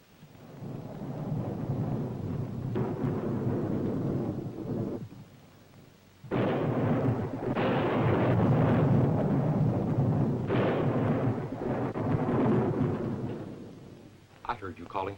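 Thunderstorm with rolling thunder, a long low rumble that swells, briefly eases, then returns loud and sustained, heard in a dim indoor scene with faint background activity.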